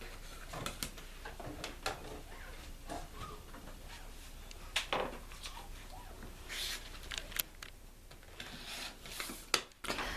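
Fabric half square triangles being trimmed to 2.5 inches square for a star quilt block: soft rubbing and scraping of a ruler and cutter against cloth, quiet and close, with small ticks and taps scattered throughout.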